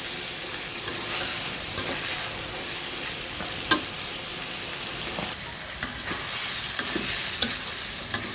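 Tomatoes stir-fry in oil with fish curry spices, a continuous bright sizzle broken by scattered spatula scrapes and taps against the pan, close and steady.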